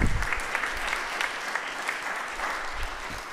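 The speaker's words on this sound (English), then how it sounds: "Now clap your hands, O ye people." A church congregation at a Sunday Holy Communion service claps their hands together, producing a steady wash of applause that starts strong and gradually eases over a few seconds.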